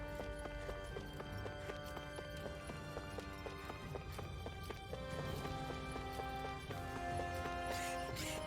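Horse hooves clop and gallop at a steady running rhythm in the video game Tales of Arise, layered over a continuous musical score with no talking.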